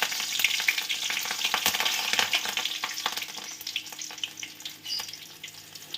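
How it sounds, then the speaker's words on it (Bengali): Green chilli frying in very hot oil in a home kitchen, a dense, steady crackling sizzle with sharp pops throughout, close and loud, no talk. "ভাজার আওয়াজ শুনে তোমরা নিশ্চয়ই বুঝতে পারছো তেল কতটা পরিমাণে গরম হয়ে গেছে।"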